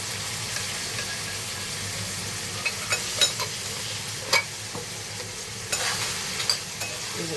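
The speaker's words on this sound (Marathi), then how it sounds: "मस्त आता ना आपण असं मिक्स करून घेऊया" Prawn mince with Schezwan chutney sizzles in a pan as it is stirred, with a steady hiss and a few scattered scrapes and taps of the spoon, close and moderately quiet with no voices.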